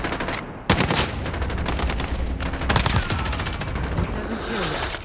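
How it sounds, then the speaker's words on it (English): Gunfire from a Call of Duty Modern Warfare firefight bursts loud and close, with machine-gun rattles and single shots overlapping almost continuously across a few seconds. "Under fire! Need to reload."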